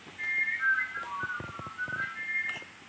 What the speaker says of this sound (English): as he blew his wonky whistle, this caused some of the engine to go chaotic.